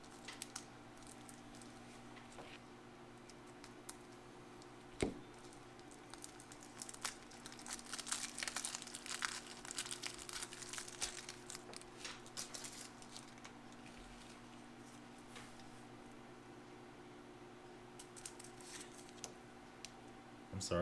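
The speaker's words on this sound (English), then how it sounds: "Our tea is also wrapped in cellophane." Cellophane wrapping on tea packs from a 1960s-era vintage storm kit crinkles faintly and in uneven bursts, with one sharp tap, against a low steady background hum.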